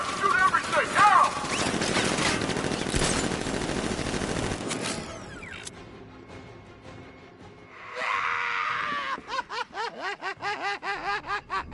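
Rapid bursts of gunfire from the Batman Arkham Knight video game, with dense broadband firing in the first seconds, then a quieter stretch with a whoosh, followed by a rhythmic run of repeated shots toward the end.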